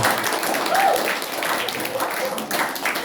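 Audience applause during a church service, light and scattered and fairly soft, running along under a speaker's voice.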